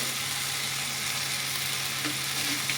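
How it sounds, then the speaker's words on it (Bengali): Turmeric, cumin and coriander powders fry in hot oil, giving a steady, even sizzle that stays close and constant throughout, with a low hum underneath and no voices. "মশলাটা একটু খুব ভালোভাবে একটু কষিয়ে নেবো এখানটায়"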